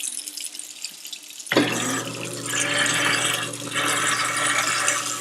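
Tap water runs steadily into a sink as peas are rinsed beneath it, a close, continuous splashing hiss that starts abruptly after a quiet opening second and continues to the end.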